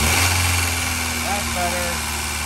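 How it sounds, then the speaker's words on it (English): A Honda Integra GSR engine runs with a steady low hum and slight rise in revs, heard close up while people talk over it. "Rev it up a little bit."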